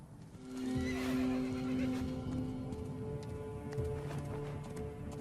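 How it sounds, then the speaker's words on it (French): In an animated film, a horse whinnies loud and long near the start, its neigh trailing off as hooves clip-clop in a steady rhythm over a busy background. "Mon cheval."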